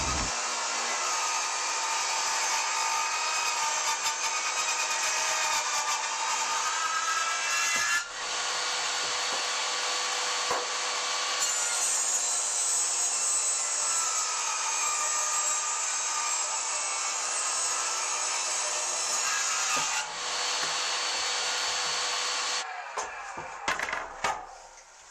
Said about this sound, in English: With the 31-inch by 5-inch boards, we'll take them to the table saw and resaw each of them into 2 pieces.